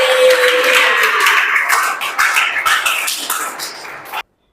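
A class of eighth-grade pupils in an Indonesian Islamic education lesson claps together in a loud, dense burst close to the microphone, with no talking; the sound cuts off abruptly after about four seconds.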